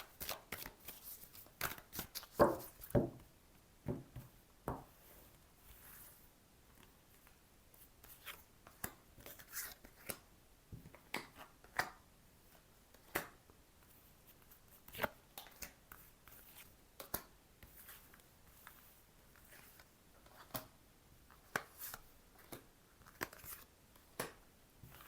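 Tarot-style cards being laid down a second time in a reading, heard as scattered soft snaps and slaps of cards on a table, spaced irregularly over a quiet background with no talking.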